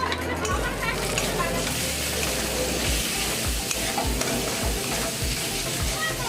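A spice paste of ginger, garlic, turmeric, chilli powder and salt fries in hot oil for a Bengali jackfruit and prawn curry, sizzling loudly and steadily with stirring scrapes, with a voice speaking faintly now and then.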